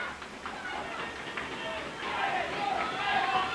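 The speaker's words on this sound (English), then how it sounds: "I hope you can hear this crowd." A large indoor wrestling arena crowd roars and cheers continuously, swelling louder toward the end, with a voice talking over the din.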